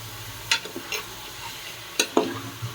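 Goat head curry stirred in a pan of hot oil, with a few distinct scraping clacks of the spoon against the pan over a soft, steady sizzle, close by and with no talk.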